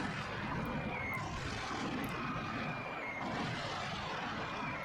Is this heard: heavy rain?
no